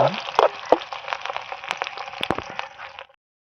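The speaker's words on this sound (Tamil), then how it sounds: "கடுகு நல்லா பொரிஞ்சுட்டு அடுத்து சின்ன வெங்காயம் போட போறோம்" Mustard seeds spluttering in hot oil for a lentil kuzhambu tempering, a close crackle of sharp pops and sizzle that fades out after about three seconds.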